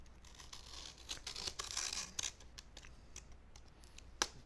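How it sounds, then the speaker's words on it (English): An X-Acto knife cuts open a package, giving a quiet run of short scratchy slicing and tearing strokes with a few sharper snaps near the end. "got the old X-Acto knife here"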